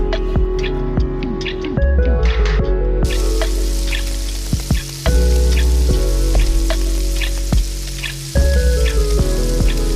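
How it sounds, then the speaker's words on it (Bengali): Raw singaras drop into boiling hot oil and fry with a dense, steady crackling sizzle, loud and close, broken by a few bubbling surges and a low hum underneath; nobody speaks. "এরপর কাঁচা সিঙ্গাড়াগুলো চলে যায় সোজা টকবগে গরম তেলে।"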